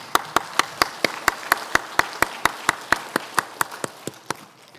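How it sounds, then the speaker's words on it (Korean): At a Korean church dedication service, the congregation claps in unison, a steady rhythmic beat of about twenty sharp synchronized claps, roughly four per second, that softens near the end. "하나님께 감사의 박수를 한번 드리겠습니다"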